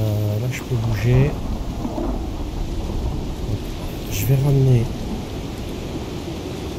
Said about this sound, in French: En plus en plein orage.